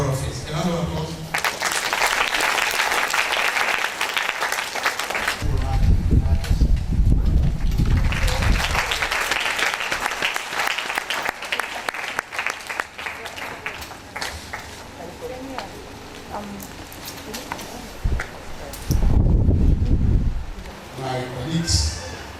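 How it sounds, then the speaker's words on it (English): An audience at the official launch of Nigeria's space ambassador scheme applauds in broad bursts of clapping that rise and fall over about twenty seconds, mixed with low thumps and a voice speaking through parts. "A round of applause."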